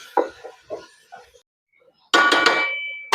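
A spoon stirs chicken coated in biryani masala and coriander powder in a metal pot for Jaffna-style chicken biryani. A few sharp clanks are followed by a pause, then a loud burst of scraping and rattling against the pot.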